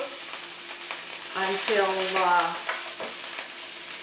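Onion, celery, mushrooms and chopped kale sizzle in a hot pan, with a soft continuous fry, a louder burst as the vegetables are stirred around, and a brief voice heard over the cooking.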